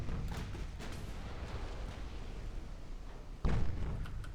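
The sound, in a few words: torpedo hits on enemy ship in Ultimate Admiral: Dreadnoughts video game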